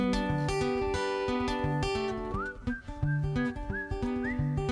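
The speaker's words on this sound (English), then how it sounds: "I know I just whistled a solo." A single performer whistles a melodic tune at a spoken-word show, with clear sustained notes and some sliding pitches, up close and with no talk.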